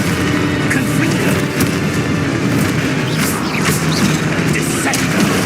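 Confringo fire spell blast in Hogwarts Legacy, a loud booming explosion over dense, continuous game noise with sharp crackling bursts throughout.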